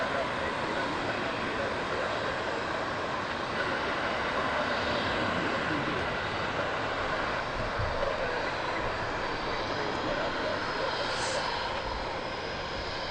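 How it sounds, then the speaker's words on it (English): An Egypt Air Boeing 777 jet at Heathrow Airport produces a continuous broadband engine roar that stays steady and fairly loud across the whole stretch, with no break or lull. "And then the Egypt Air 777."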